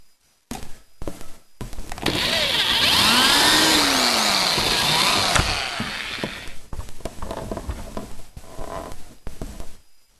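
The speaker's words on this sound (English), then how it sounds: "this one's going to need a little bit of a hit with the drill" A power drill whines loudly for a few seconds, rising and falling in pitch as it bores into a CG-1500 case, surrounded by clicks and handling knocks.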